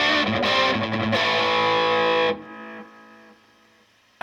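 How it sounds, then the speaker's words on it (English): Boss Nextone Stage guitar amp set to EL84 power valve simulation: a loud distorted electric guitar chord strummed a few times, then ringing out and decaying into faint hum. "if I change to EL84 it sounds like this"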